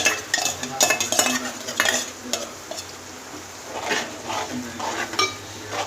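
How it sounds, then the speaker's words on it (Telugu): Chili powder, garam masala and chicken masala are stirred in a pot, a spoon scraping and clinking against the metal in uneven bursts over a faint background sizzle. "కారం, గరం మసాలా వేసి మంచిగా చికెన్ మసాలా వేసి మంచిగా కలుపుకోవాలి"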